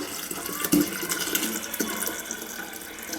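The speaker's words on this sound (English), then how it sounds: "I'm going to just pour it into a glass container." Homemade ginger wine poured into a 3 liter glass jar, a steady close gurgling stream with a sharp splash near the start, no voices.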